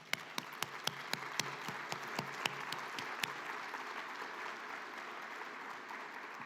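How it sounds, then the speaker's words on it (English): Audience at the OECD Global Forum applauding, distinct individual claps at first that merge into a steady wash of clapping, heard from some distance and fairly quiet. "So please join me again in a big round of applause."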